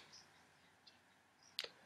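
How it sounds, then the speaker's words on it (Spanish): A computer mouse gives a few quiet, isolated clicks while placing a trade on an online binary options platform, with one sharper double click near the end, close and alone in a quiet room. "hacemos clic en arriba"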